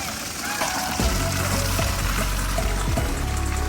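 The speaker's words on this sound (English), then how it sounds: "here's the dirty water dump y'all like to see." Dirty water dumped from a carpet cleaning machine pours out steadily in a continuous splashing gush with low gurgling, close and moderately loud.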